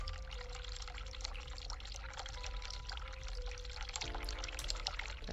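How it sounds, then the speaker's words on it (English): A cold water tap runs in the hospital room of the game The Cat Lady, with a steady, fairly loud pour of water that continues without a break. There is no speech. "Turn cold water on."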